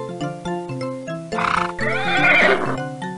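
A horse neighs in a children's PC video game, one loud whinny rising and wavering over a backdrop of tonal game music.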